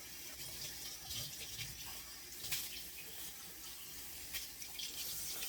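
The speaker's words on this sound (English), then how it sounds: "I can rinse this off now." Tap water runs into a sink while a cooking utensil is rinsed during gumbo preparation. The flow is soft and steady, with splashes and clinks as the utensil moves under the stream, and no voices.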